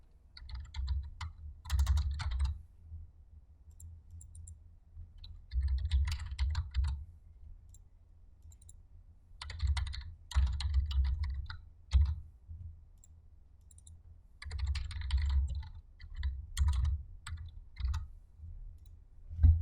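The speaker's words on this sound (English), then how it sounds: "And so I'm going to type in date, approval, drawn by, and drawing number." Typing on a computer keyboard while filling in title block labels in a 2016 drafting program, with close, crisp key clicks in bursts separated by short pauses and no talking.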